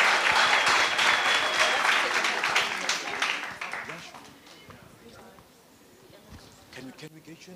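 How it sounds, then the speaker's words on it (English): An audience at a business pitching challenge workshop in Umlazi applauds loudly, the clapping thinning and fading over about four seconds, with faint voices underneath as it dies away. "Let's give a round of applause."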